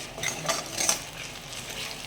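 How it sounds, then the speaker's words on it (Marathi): Tomato puree sautéed into onions in a pan for a Sunday biryani, giving soft, continuous scraping and clinking of a spoon against cookware with faint sizzling, steady and close, with no voices. "आता मी त्यात हे टोमॅटो टाकलेला आहे, टोमॅटोची ग्रेव्ही अशी ही बारीक केलेली, ती आता परतून घ्यायची आपण या कांद्यामध्ये"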